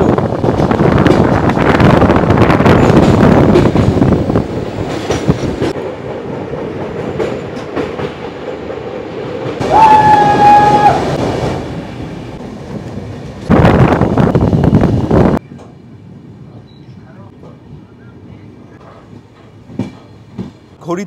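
A passenger train on the Howrah to Jagdalpur line runs through a string of tunnels, giving a loud steady rumble with bursts of roaring tunnel noise and a brief high squeal, then quieter rolling clatter.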